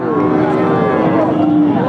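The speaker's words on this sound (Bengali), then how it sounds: "কালো কালার সাদা কালারের সাইওয়াল জাতের দুধের গাবি" A Sahiwal dairy cow with black and white colouring lets out one long, loud, close moo that holds steady throughout.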